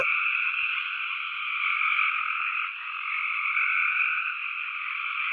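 Dense chorus of many tree frogs calling at once in a forest, a continuous loud trilling wall of overlapping metallic calls with no pauses, steady throughout.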